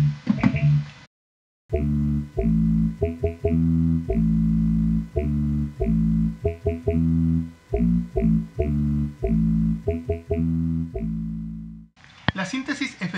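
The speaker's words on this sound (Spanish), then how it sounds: "Ahí programé un bajo tipo bebop que cante bom bom bom y suena así" A Yamaha FS1R formant synthesizer patch plays a bebop-style bass line that sings vowel-like "bom bom" notes, a steady walking rhythm of short, punchy tones heard alone and up close.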